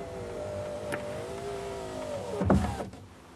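The electric power window of a 1990 Vauxhall Senator 24v whines steadily as it moves for a couple of seconds, then stops with a soft thud, close and clear with no talking.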